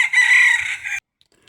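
A silkie rooster crows once, loud and close, a single strained call about a second long, then silence.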